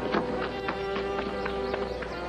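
Horses gallop in a quick, steady clip-clop of hoofbeats, evenly paced and fairly loud over a constant background hum, in a Zorro drama episode.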